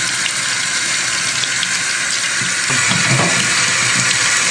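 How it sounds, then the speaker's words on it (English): A paint brush is rinsed under a running tap in a sink, a loud, steady stream of water with brief splashing changes as the brush moves through it, close and without talk. "Now when you clean the brush, you can see if I just use water"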